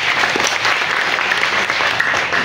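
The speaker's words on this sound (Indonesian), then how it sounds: "Tepuk tangan." Applause from an audience at a Ramadan fast-breaking gathering with orphans in Padang, a dense, steady wash of clapping at moderate distance, no talking.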